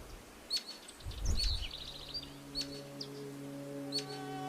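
Bird calls in the Atacama Desert: several short, sharp high chirps spaced irregularly, fairly faint, over a soft background hiss with a low rumble midway and a faint sustained tone late.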